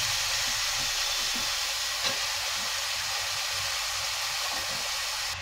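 Onions and potatoes frying in soybean oil in a wok, giving a steady, loud, unbroken sizzle and hiss with no pauses throughout.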